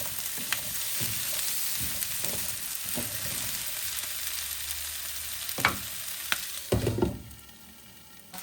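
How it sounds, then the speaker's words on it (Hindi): Capsicum and zucchini sizzle steadily in a hot pan, with occasional clinks and scrapes of a spatula stirring, growing busier toward the end. "કેપ્સિકમ અને ઝુકીની બંને એક સાથે જ નાખી અને આને બી સોતે કરીશું સરસ રીતે"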